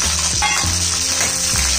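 Mustard seeds and curry leaves crackle and sizzle in hot oil for a khaman dhokla tempering, a loud, continuous frying hiss with a few sharper pops, close up and without voices.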